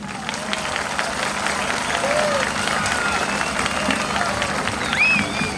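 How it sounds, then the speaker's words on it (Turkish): Sustained crowd applause, steady and dense throughout, with scattered whistles or cheers rising near the end. "sanatçılarımıza büyük bir alkış alalım"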